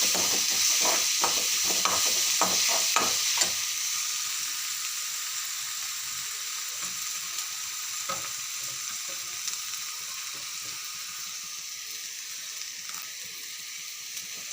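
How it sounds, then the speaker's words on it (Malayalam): Chopped onion, ginger and green chilli sautéing in a pan, with a run of sharp stirring clicks over the sizzle at first, then a softer, steady frying hiss that slowly fades; no speech. "അതിലേക്ക് കുഞ്ഞായിട്ട് വെച്ചിരിക്കുന്ന സബോള, ഇഞ്ചി, പച്ചമുളക് ഇതെല്ലാം കൂടി ഇട്ട് ഒന്ന് ചെറുതായിട്ടൊന്ന് വഴറ്റിയെടുക്കണേ"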